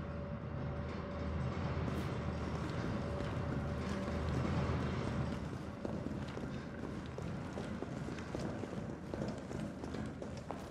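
A subway train in the Resident Evil 3 Remake video game rumbles steadily with clattering rail noise throughout, fairly quiet, easing slightly in the second half.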